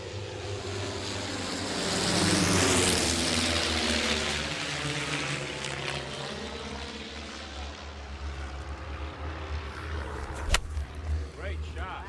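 Airplanes pass over a Florida adventure golf course, a broad roaring whoosh that swells loud early on and then fades to a steady low rumble, with people talking nearby.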